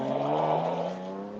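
A naturally aspirated rally car with a swapped-in 3-liter horizontally opposed six-cylinder engine revs at high RPM on a forest rally stage, giving a smooth, steady, close engine drone that dips slightly toward the end.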